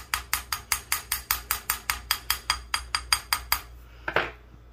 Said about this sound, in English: grab a little tool here just to give it a couple taps just to loosen it up within the sand